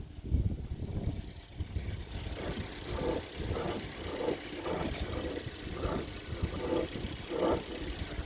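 Whirring, droning noise from the electric power steering of a 2010 Ford Flex EcoBoost on fat aftermarket wheels and tires, a steady engine-like hum with rhythmic pulsing swells repeating roughly every three-quarters of a second, close and continuous.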